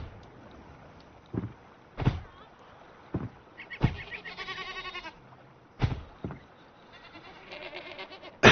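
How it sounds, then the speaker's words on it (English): Goats bleat in the video game Enshrouded, several separate calls spaced a second or two apart, fairly close and clear, with a few soft thumps between the cries. "yes, you can hear the goats"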